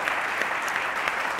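Studio audience applause on a Pakistani cricket talk show, celebrating a Multan Sultans win: dense, steady clapping from a crowd that runs throughout the short moment with no pause.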